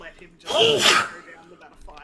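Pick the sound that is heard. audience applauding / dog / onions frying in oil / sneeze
sneeze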